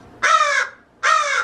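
A crow gives two loud, harsh caws close by, each about half a second long, separated by a short pause, with nothing else heard.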